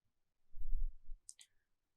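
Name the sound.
mouse click on OK button in Power Query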